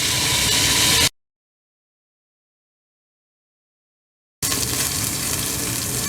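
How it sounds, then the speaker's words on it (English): Beef browning on all sides in a pot for pot roast gives a steady, close hiss of sizzling fat that cuts out to full silence for several seconds, then resumes just as loud. "We are going to brown this beef on all sides"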